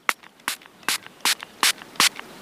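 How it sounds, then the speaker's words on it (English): A handheld spray bottle of tap water misting over a flower, six short crisp hissing bursts at an even pace, close and clear with quiet gaps between. "just take the bottle and spray just over the top of the flower"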